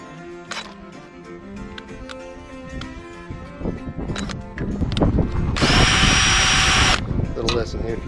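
A power drill bores with a drill bit on a farm during winter prep, giving a loud, steady whining burst of about a second and a half amid spoken talk and scattered clatter.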